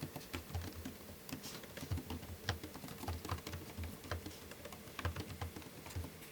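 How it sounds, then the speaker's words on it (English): Rapid, uneven clatter of keys being typed on continuously on a Lenovo Legion 5i Pro (2021) laptop keyboard, close up, with no voices. "Set the microphone down here so you can kind of hear the sound of the keys."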